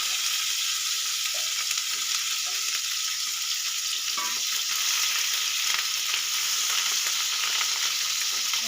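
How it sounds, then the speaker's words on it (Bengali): Sliced bitter gourd (karela) frying in hot oil over a spice tempering in a pan, a continuous even sizzle and crackle, steady and close, with no voices. "করলাগুলো দিয়ে আমি ভালো করে ভেজে তারপরে পোস্তটা দেবো"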